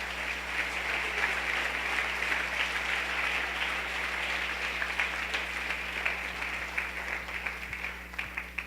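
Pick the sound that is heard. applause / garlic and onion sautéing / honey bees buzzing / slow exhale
applause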